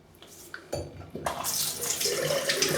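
Tap water runs to rinse lather from a shaving brush, starting faintly with a few small clinks before the close, steady splashing stream swells and continues.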